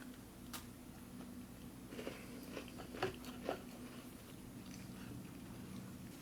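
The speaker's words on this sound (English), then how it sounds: "I'll try one of our oat biscuits" Faint crunching bites and chewing on a Swedish freeze-dried ration oat biscuit, a few soft crisp cracks clustered over a quiet room background.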